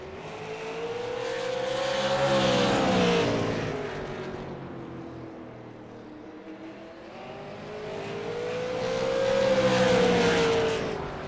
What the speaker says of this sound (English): Watch the back end of the car kick out.